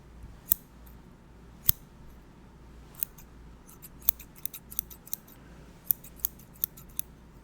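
Scissors snip sharply and close by in a role-play haircut, a few isolated cuts at first, then a quicker run of crisp snips over quiet background.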